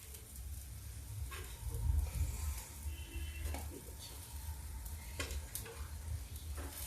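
Lauki and baingan fritters fry gently in oil over a low flame, giving a steady, faint sizzle with occasional stirring clinks and soft kitchen taps, no voices.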